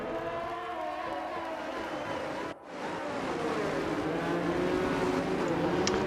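A pack of F1 race cars in a racing video game roars away from the start on the Bahrain circuit, a dense, continuous engine drone with layered high revs and a brief dip midway.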